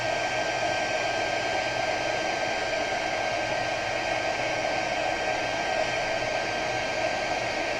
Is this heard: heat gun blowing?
yes